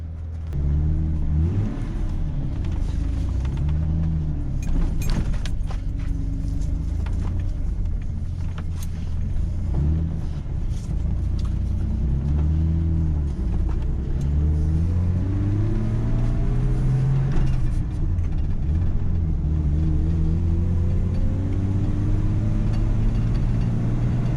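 A Ford F250 pickup truck cruises down the road, its engine rumbling steadily up close with shifting tones as it accelerates and settles, continuous and loud with no talking.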